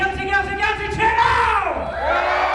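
An audience at Deer Shed Festival cheers together during a mock trial show, a loud, shrill mass of voices, many of them children, swelling then tailing off.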